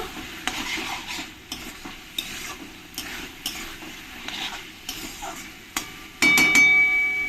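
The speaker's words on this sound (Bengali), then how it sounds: "এবার আমি যে এখানে আলুগুলো ভেজে রেখেছি আলুগুলো দিয়ে দেবো আলুগুলো দিয়ে মশলার সঙ্গে একটু আমি ভালো করে কষিয়ে নেব" Fried potatoes stirred into spices in a pan for a Bengali prawn curry, with a steady sizzle and repeated scraping stir strokes, then a sudden louder burst of frying near the end.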